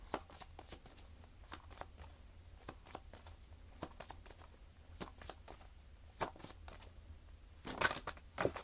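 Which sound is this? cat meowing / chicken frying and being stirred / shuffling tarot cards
shuffling tarot cards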